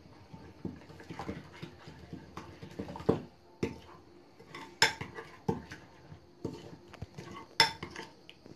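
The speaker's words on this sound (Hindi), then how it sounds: "अभी जो पहले मैंने बेसन का पेस्ट किया वो इसके साथ मिक्स्ड कर देंगे।" Gram flour paste stirred together with egg and cauliflower in a bowl for pakora batter: irregular clinks and scrapes of a utensil against the dish, close and moderately loud, with a dog whimpering faintly at times.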